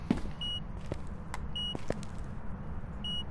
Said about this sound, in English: That beeping noise indicates EMF 5.